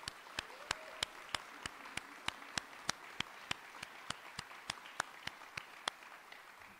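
Steady, evenly spaced hand claps, fairly quiet and a little distant, at an apprenticeship graduation event held in the morning. They sound like only a few people clapping slowly, with no talking over them.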